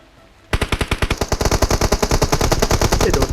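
Rapid automatic gunfire in the mobile battle-royale game PUBG Mobile bursts in after a brief quiet moment, a loud, dense string of evenly spaced shots that carries on steadily to the end without talk.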